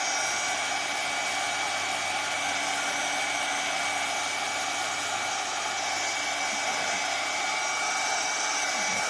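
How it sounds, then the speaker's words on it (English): A hair dryer blows steadily and loudly from start to finish, a constant high whooshing hum with no pauses and no voices. "I don't want to keep you with the hair dryer forever."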